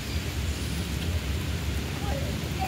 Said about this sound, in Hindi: अच्छा ऊपर से बारिश आ रही है।